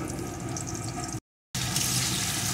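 Potato pieces frying in hot oil with salt and turmeric, a steady close sizzle that is briefly cut by a gap of silence and then returns slightly louder.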